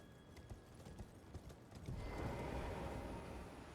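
Horse hooves clop in the video game Elden Ring, a rapid rhythmic galloping patter that swells louder midway and keeps up steadily with no talking over it.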